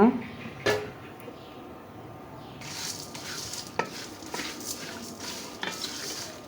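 Whole garam masala spices heated over medium flame and stirred in a pan, scraping and rattling against the metal with faint sizzling, a sharp clink now and then, moderately close.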